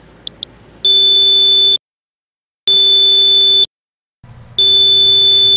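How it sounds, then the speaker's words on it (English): A Radiation Alert Frisker radiation detector gives two tiny chirps, then sounds its alarm as three loud, steady high-pitched electronic tones of about a second each, separated by brief silences, close by. "When the set alarm level is reached, the unit will alarm"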